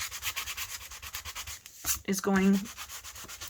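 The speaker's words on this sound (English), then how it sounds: "It's probably the first time you've ever seen me use sanding block, right?" A small sanding pad scrubs the gloss off the spine of a paper journal cover in rapid, rhythmic back-and-forth rubbing strokes, close up, with a short stretch of speech partway through.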